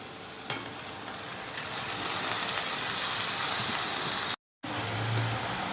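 Hadga flowers cooking in a pan with onion and tomato give a steady, moderately loud sizzle and stir. A sharp clatter comes early, and there is a brief dropout near the end. No one speaks.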